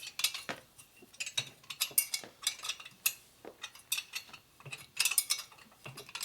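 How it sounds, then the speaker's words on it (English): A speed wrench turns the head bolts on a Harley shovelhead/panhead top end, with rapid ratcheting clicks in quick irregular bursts, close and crisp, with no talk. "Speed wrench."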